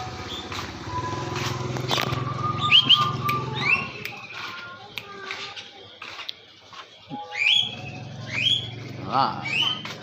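A pet sooty-headed bulbul (kutilang) gives short bright chirps and whistled notes in bursts, close, mixed with rumbling background noise and some voices.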